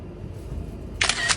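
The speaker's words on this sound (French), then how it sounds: "on pourrait prendre une photo comme ça en fait" A camera shutter fires twice in quick succession, two crisp close mechanical clicks at the end of a short stretch of quiet room tone outdoors in Tromsø.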